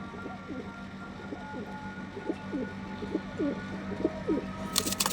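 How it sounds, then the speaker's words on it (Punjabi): Pigeons cooing at a pigeon breeder's loft, a black-eyed pigeon among them, with repeated soft low coos in a steady rhythm over a constant background hum, ending in a brief brighter rustle. "ਬਹੁਤ ਸੋਹਣੀ ਕਬੂਤਰੀ ਹੈ"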